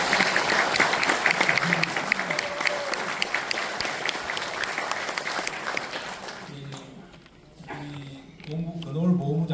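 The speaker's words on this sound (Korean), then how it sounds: "정말 감사하다는 말씀을 드리면서 이 세 분한테 박수를 한번 주십시오" Lawmakers receive a dense round of audience applause at the National Assembly Library in Yeouido, Seoul. The clapping stays loud for about six seconds, then fades as a voice begins speaking over the dying applause.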